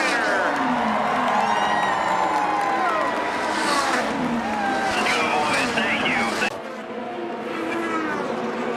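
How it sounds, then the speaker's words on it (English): IndyCar race cars scream past on the last lap of a street race, a loud, continuous engine roar with rising and falling whines over crowd noise, and a commentator talks throughout. "White flag, 1 lap to go until we see the Advanced Auto Parts checkered flag, and Kyle Kirkwood leads the way."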